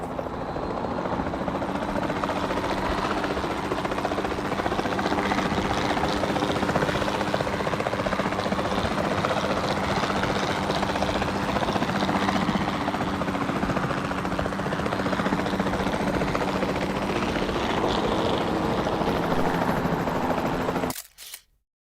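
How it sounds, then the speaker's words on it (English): A capture team helicopter in the video game Jurassic World Evolution 2 flies with a loud, continuous rotor thrum and engine whine that holds steady for about twenty seconds before cutting off abruptly. "Then the sensible thing is to take a capture team helicopter"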